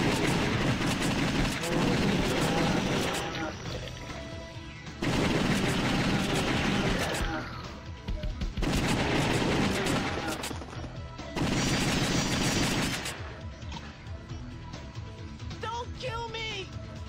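Rapid bursts of gunfire from the House of the Dead 2 arcade shooter come in loud blocks of several seconds each, separated by short lulls, with game sounds and a voice talking between them.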